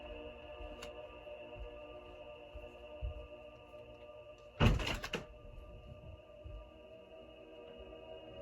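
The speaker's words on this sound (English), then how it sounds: "People are slamming doors." A single heavy door slams nearby, a sharp thud with a brief rattling tail standing out over a steady electronic hum and low background noise.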